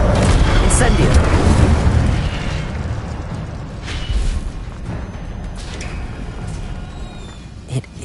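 The Incendio fire spell cast in Hogwarts Legacy: a loud, booming fiery burst that rumbles and gradually dies away, followed by a fainter second swell and a small pop near the end.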